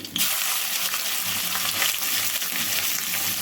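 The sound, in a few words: ivy gourd pieces frying and being stirred in pan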